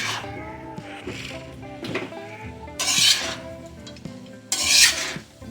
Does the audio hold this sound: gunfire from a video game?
no